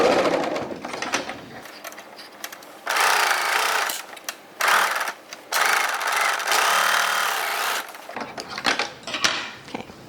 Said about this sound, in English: I'm going to serge across this flat part first, and then I'm going to come back and go around the curvy part